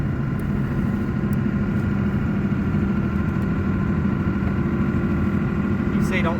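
A 12-valve diesel truck engine idles steadily while warming up, a loud, continuous low rumble that stays constant throughout with no break.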